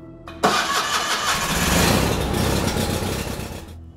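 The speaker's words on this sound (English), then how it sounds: "I suddenly heard the sound of an engine start up." A pickup truck engine cranks and catches near the start, then runs at a loud, steady rumble that swells slightly and holds for several seconds near the listener, with no voices.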